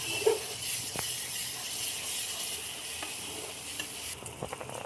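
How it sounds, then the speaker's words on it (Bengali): Spice paste with turmeric and salt fries in hot oil in a pan, a steady close sizzle broken by scraping stirs, with no voices. "মশলাটা খুব ভালো করে ভাজার জন্য নেড়ে দিচ্ছি।"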